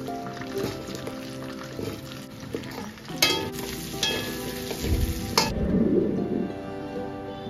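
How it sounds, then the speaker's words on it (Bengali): Onions and spices sizzle in hot oil in a wok for a mutton dish, a steady crackling fry broken by sharp scraping stirs and clinks, with a louder hiss near the end. "এবার আমি এই তেলটাতেই আর একটু তেল দিয়ে পেঁয়াজগুলো কষাবো, মশলা কষাবো"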